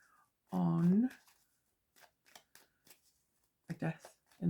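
Tarot cards are shuffled in a few short, crisp bursts of riffling and tapping, with a brief voiced sound before them and another after.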